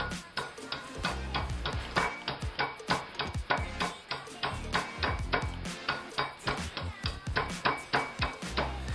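A skillet pounds pistachios sealed in a Ziploc bag on a kitchen counter: a rapid, steady series of close, sharp knocks and crunches, roughly two or three per second, with no talk.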